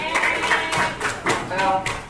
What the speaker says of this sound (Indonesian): Tepuk tangannya gitu.